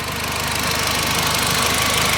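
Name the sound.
2002 Audi TT turbo inline four engine running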